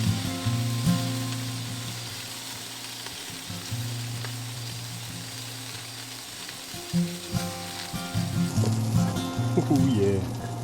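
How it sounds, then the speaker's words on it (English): Steak sears in a pan at a remote Pilbara campsite near George River Gorge, a steady sizzle under a low background hum, with occasional louder spatters and bits of talk toward the end. "Before I sear this steak, I need to pat it dry"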